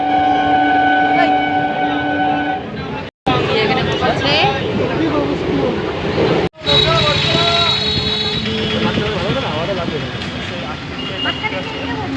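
A crowded passenger train, with a steady rumbling rail drone under loud overlapping chatter of travellers, a horn-like tonal note early on and brief cuts in the sound.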